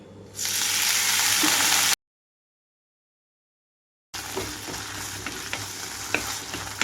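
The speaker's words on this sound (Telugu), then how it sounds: "ఇందులోకి ఇంకొద్దిగా ఆయిల్ తీసుకుంటున్నాను పుదీనా వేసి వేయించుకుంటున్నాను" Mint leaves fry in oil with a loud, close sizzling hiss and light stirring scrapes; the sound cuts off abruptly to silence for about two seconds, then the frying resumes.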